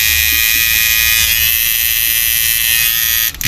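Repaired power inverter turned up to full output, giving a loud, harsh, steady electrical buzz with a rough, wavering tone that cuts out briefly at the end.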